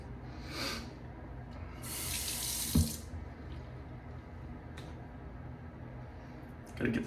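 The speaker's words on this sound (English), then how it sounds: "Gotta get the soap out my face," Tap water runs into a sink as soap is rinsed off a face, with a strong hissing spray burst, splashes and cupped-hand sloshing in between, close and alone.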